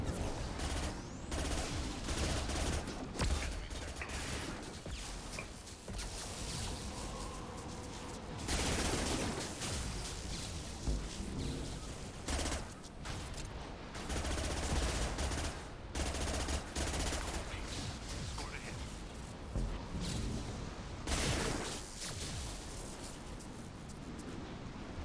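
Gunfire in the Mass Effect 2 video game crackles in repeated rapid bursts and scattered single shots over a steady hissing background, sustained and fairly distant throughout the battle.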